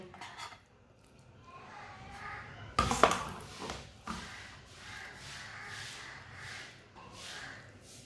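Raw tomato curry is spooned onto a plate, with scattered clinks and scrapes of a metal spoon against cookware and a louder clatter midway, all fairly close and moderately quiet.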